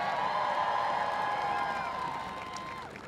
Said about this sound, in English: Please give Betty a big round of applause.